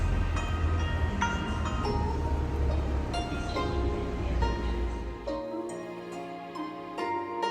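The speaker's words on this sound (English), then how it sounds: "or the magnetic levitation train, from the Longyang Road Station to the Pudong International Airport" A Shanghai maglev train running to Pudong International Airport hums and rumbles steadily with a rising electric whine and tonal chimes, then the low rumble drops away, leaving ringing electronic tones.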